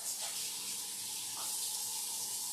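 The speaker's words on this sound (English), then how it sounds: "Let me just rinse my hands." Water streams steadily from a tap as hands are rinsed, a soft continuous hiss with faint splashes.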